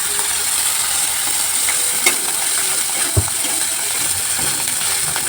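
A spoon stirring potato filling with ginger paste and coriander leaves in a hot pan, producing a steady, close sizzle with occasional scrapes and knocks against the metal.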